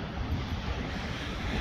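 Ocean waves at Surfer's Point on the California coast make a steady, loud broadband roar with wind buffeting the microphone, no voices present.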